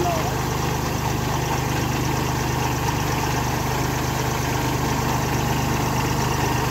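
A Kubota A211N tractor engine runs steadily while spraying sugarcane in trench rows, a loud continuous low rumble with a steady hum throughout, no talk.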